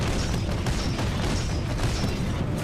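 Titanfall 2 gameplay explosions boom continuously, with deep rumbling bursts and crashing debris layered into a loud, dense barrage.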